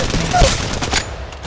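Gunfire in Apex Legends Mobile rattles in a quick, loud burst of rapid shots lasting about a second, close and sharp, with faint game voice chatter around it.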